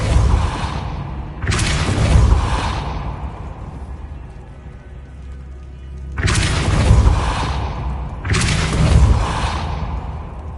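Spell impacts from the Depulso force-push spell in Hogwarts Legacy, heard as two pairs of loud, booming whooshes with a rumbling low-end tail, separated by a quieter stretch of game ambience.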